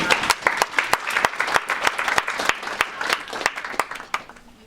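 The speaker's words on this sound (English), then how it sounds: "Give yourself a round of applause." An audience at a fan convention Q&A breaks into applause, with crisp individual claps standing out from the crowd's patter before it thins and fades toward the end.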